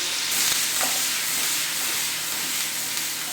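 Onions and garlic fry in a pot with sprigs of thyme, giving a steady close sizzle with light stirring scrapes, no talk over it.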